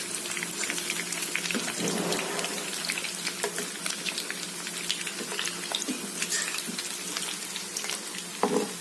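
Leftover cooked rice pieces frying in hot oil in a pan, a steady close crackle and hiss with scattered pops running throughout, no voices.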